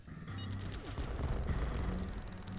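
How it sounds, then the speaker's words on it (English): Area bomb attack in an iOS tower defense game: a dense, crackling burst of explosive impacts and rumbling blasts, steady and fairly loud throughout the short moment, with no talk. "Let's go ahead and electro bomb all these guys right here."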